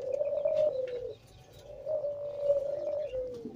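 A teddy pigeon in Pakistan gives soft, low, drawn-out coos in two long phrases, fairly faint against quiet background noise.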